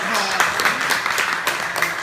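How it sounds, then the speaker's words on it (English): An audience at a Transformers fan meetup claps in a steady wash of applause lasting about two seconds, moderately loud and fairly close, with no voices rising above it. "I think that's worth a round of applause"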